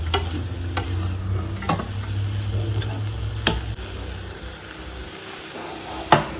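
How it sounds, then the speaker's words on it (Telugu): Mango pieces for pulihora are stirred in a hot pan, a low steady sizzle with sharp scraping clinks of the spoon against the pan at irregular intervals, close and alone without talk. "మ్యాంగో పీసెస్ జస్ట్ అలా అలా స్టిర్ అయితే చాలు, ఫ్రై అవ్వకూడదు చాలు."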